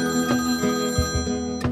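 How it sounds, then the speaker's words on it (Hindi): Telephone ringing sound effect, a bright electronic ringtone with rapid repeated chime pulses over a sustained tone, loud and alone with no talking. "जैसे ही वो घर पहुंची उसका फोन बजा"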